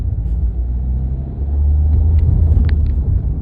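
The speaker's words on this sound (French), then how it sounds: "je vais accélérer un peu, on va écouter un peu la mécanique" A low diesel engine rumble builds as a Renault Clio IV 1.5 dCi 75 hp accelerates, heard from inside with steady road noise and a few faint squeaks.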